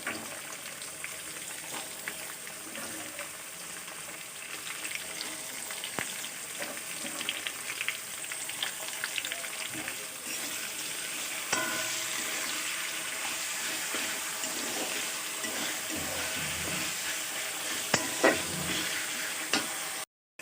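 Chopped onions fry in hot oil in a home kitchen pan for a curry, giving a steady, close sizzle with faint stirring scrapes throughout and no talking.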